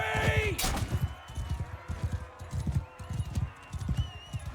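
Horse hooves clip-clop in a rapid galloping rhythm in Mount & Blade II: Bannerlord, with a whinny at the start and a whooshing burst, close and continuous.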